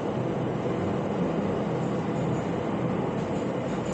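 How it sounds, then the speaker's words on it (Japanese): Steady, loud rumble from inside a moving passenger train in Japan, a continuous broadband roar with no breaks or voices. "今電車乗ってます。"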